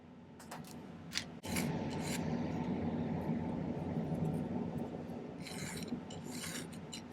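A silversmith files a silver ring for an amber orbit setting: after a faint click or two, a steady, close rasping scrape starts and keeps going evenly to the end.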